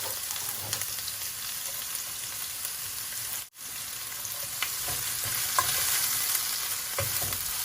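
Onions frying in a pan give a continuous, moderately loud sizzle with faint stirring scrapes, broken by one brief silent gap midway.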